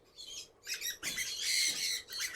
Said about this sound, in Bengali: খুব চমৎকার ডাকাডাকি করে ঘুঘু পাখির ডাক কিন্তু অনেক